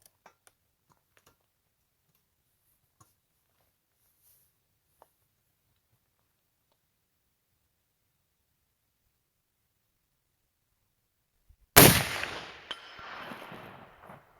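A long quiet stretch with faint ticks ends in a single sharp shot from a .50 caliber Knight muzzleloader rifle fired at a distant target, followed by a rolling echo that decays over a couple of seconds.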